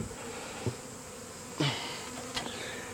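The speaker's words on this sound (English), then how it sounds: "They're swarming all around here, very unhappy, trying to get back into the hive" Western Kawa honeybees swarming around their hive, a continuous buzzing drone close by with a few louder passes and bumps against the microphone.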